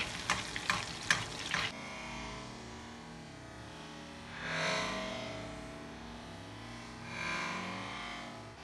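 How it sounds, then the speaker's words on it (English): Skate fish frying in browned butter in a pan, with a few sharp clatters at the start followed by a soft, steady sizzle that swells twice before easing back. "Get that butter really going. There we go. That's the color we're kind of looking for now. That's going to cook the fish"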